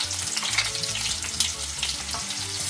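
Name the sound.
onions frying in hot oil in pot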